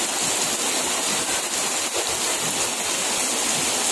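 Heavy rain pours on an outdoor crowd at a political rally by the Danau Cimpago lakeside, a dense, loud, steady hiss like rushing water that fills the whole moment without a break.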